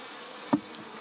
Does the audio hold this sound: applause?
no